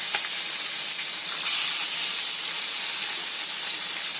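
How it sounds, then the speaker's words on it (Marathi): Dhomi fish frying in hot oil, Konkani style, giving a steady close sizzle and hiss that runs unbroken throughout, with no talking over it. "सर्व मच्छी बघा तळून झाली आहे. शेवटची मच्छी टाकली आहे."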